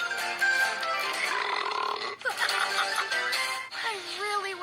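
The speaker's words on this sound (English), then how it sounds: "I can burp you up a snack rock on the way." A cartoonish creature burps in a video game, a loud wobbling belch riding over busy music and game effects, with a couple of shorter gulping bursts near the end.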